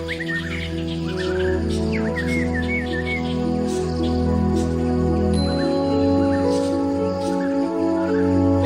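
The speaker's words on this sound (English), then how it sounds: "Tropical rainforests are home to many kinds of colorful birds." Birds in a tropical Thailand rainforest chirp and whistle over a dense, steady insect drone, their quick trilling calls bright and fairly close against the constant buzzing background.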